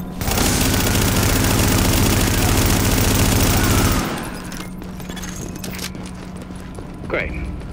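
Gunfire at the front gate in The Division: a loud, continuous barrage of shots for about four seconds, then a sudden drop to a quieter background with occasional faint sounds.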